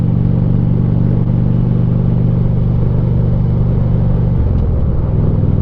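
A Harley-Davidson Ultra Classic motorcycle rides through Niles Canyon, its engine a steady, loud, close rumble that holds even for the whole stretch, with a slight shift in tone near the end.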